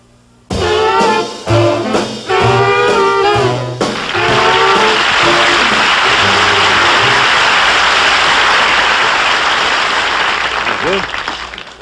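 A big band with slurping, sliding saxophones plays a short punchy phrase, quickly swallowed by a long, loud roar of applause.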